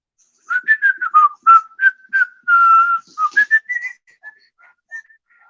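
A person whistles a lively tune, a run of quick, bouncing notes followed by a held tone, then softer, sparser notes trailing off.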